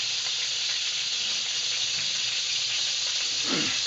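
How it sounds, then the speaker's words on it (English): Hard vegetables for lo mein frying in hot oil, a steady loud sizzle and hiss that runs the whole time, with a brief rise in spatter near the end. "Okay, so this is where you do the hard vegetables here. We got the oil frying."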